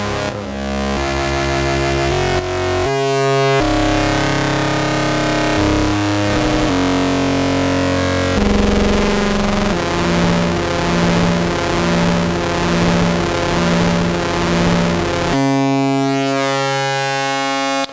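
Modular synth patch built on Triphase and harmonic shift oscillators, dense sustained tones with slowly drifting, slightly detuned pitches that beat against each other, shifting in abrupt sections, loud and continuous.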